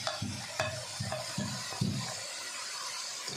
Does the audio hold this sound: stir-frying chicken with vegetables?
yes